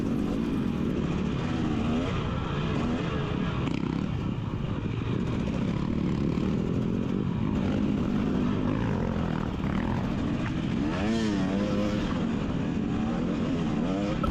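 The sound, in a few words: dirt bike engines racing, passing a Kawasaki rider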